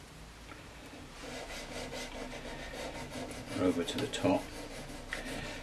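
Sandpaper wrapped on a file is rolled and rubbed across the frets of a vintage Sakai/Audition electric guitar, making soft repeated rasping strokes that grow louder near the end while someone talks.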